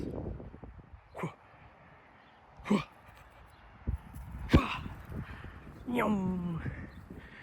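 Puppies yip and whimper in a few short, separate bursts, ending with a longer whiny whimper, while a person talks to them nearby.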